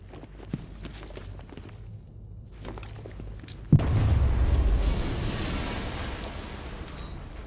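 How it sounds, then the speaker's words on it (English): Vault detonated in Batman: Arkham Knight, starting with a few quiet footsteps and scattered taps, then one sharp boom followed by a loud rumbling roar that slowly fades. "I need to be at a safe distance before I detonate."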